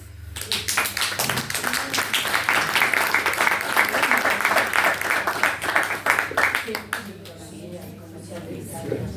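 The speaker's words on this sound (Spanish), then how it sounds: "¿Podemos aplaudir?" Applause from a retreat audience at a Catholic feast gathering, a dense patter of clapping that swells through the middle, then thins and fades toward the end, with a steady low hum underneath.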